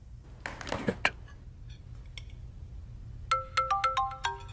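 A bright electronic phone ringtone chirps in a quick run of rising tones near the end, after a few clinks of dishes and cutlery.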